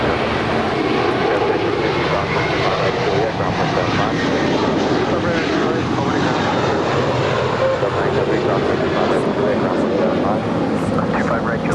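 An American Airlines Airbus A321 jet departs LAX for Orlando, its engines a loud, continuous broadband roar that holds steady across the whole stretch.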